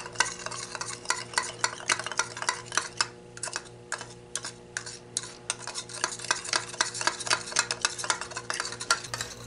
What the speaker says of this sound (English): I'm stirring this up so that I get a good mix of all the ingredients